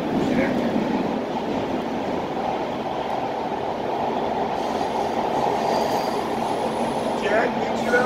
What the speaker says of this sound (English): This is a red line train to North Hollywood